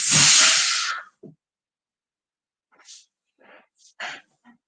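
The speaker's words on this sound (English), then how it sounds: "y'all catch me a little sneeze." A single loud, close human sneeze bursts out at the start, followed by quiet breathing and small mouth sounds.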